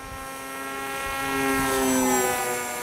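A Ranger 1600 radio-controlled model airplane flies past, its electric motor whining steadily and swelling louder as it nears, then easing slightly, heard alone.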